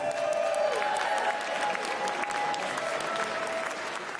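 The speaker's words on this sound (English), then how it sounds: "One more round of applause for this incredible team, please." Sustained audience applause for a team behind a group home for homeless LGBTQ youth, a steady dense wash of clapping with some cheering, loud and continuous throughout.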